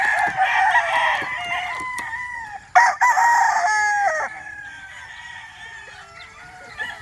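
A Boston Black stag rooster on a farm crows loudly and close by in two long, strained calls, with faint background noise between them.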